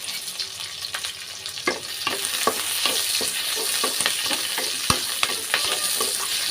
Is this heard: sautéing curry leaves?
yes